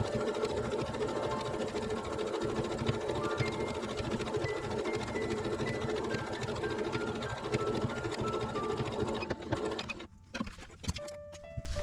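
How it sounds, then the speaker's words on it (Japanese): A sewing machine stitches the bottom seam of a patchwork hexagon tote bag with a 1 cm seam allowance, its rapid mechanical whirr running steady and close for about ten seconds before stopping, followed by a few light handling clicks. "1センチの縫い代でここスコッと縫います。"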